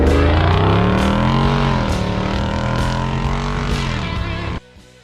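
A Jeep Wrangler 392 V8 fitted with a hydraulic steering kit, its engine loud and close, droning and shifting pitch as it drives on a trail before cutting off abruptly near the end.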